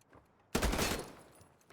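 Gunfire in the tactical shooter Battalion 1944 during a competitive match: a sudden loud burst of rapid shots that cuts in after a quiet moment, then fades into a sustained tail and echo.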